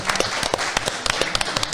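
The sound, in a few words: audience applause for Freeway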